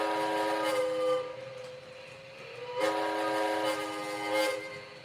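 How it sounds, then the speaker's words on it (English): A steady, loud Hancock air whistle blows in a sustained chord, swelling slightly twice as it sounds continuously with no talking. "Hancock air whistle 2."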